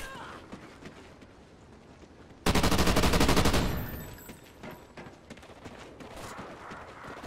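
Automatic fire from an M27 IAR in Call of Duty: Ghosts, a loud rapid burst lasting about a second and a half after quieter footsteps and game noise, then fading back to ambient gameplay.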